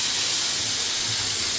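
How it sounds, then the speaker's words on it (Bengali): Small puti fish fry in a pan, giving a loud, steady, close hiss of sizzling oil with no pauses and no talk. "দেখেন যে ছোট ছোট মাছ ভাজি হচ্ছে"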